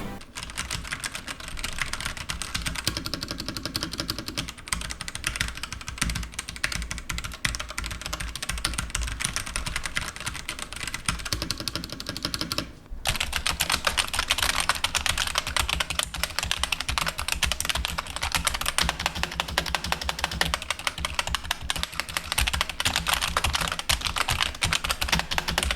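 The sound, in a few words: typing on Rexus Daxa M71 mechanical keyboard with red switches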